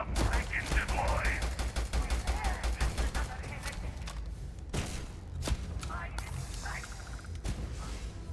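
Enemy gunfire in the game Starfield, bursts of rapid shots crackling through most of the stretch, some sharp single reports later, with a voice talking over the fighting.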